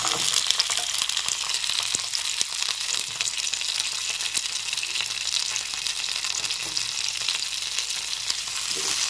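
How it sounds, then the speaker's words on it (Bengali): Chili, ginger, garlic and coriander frying together in hot oil in a kadai for a rohu masala fish curry, a constant crackling sizzle with occasional stirring scrapes. "এখন এগুলো সব একসাথে দিয়ে"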